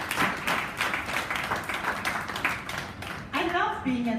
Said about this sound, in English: So let's give Zaheera Walker another round of applause.